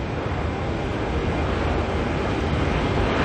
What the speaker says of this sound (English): Jetstar 296 just come in there from Queenstown.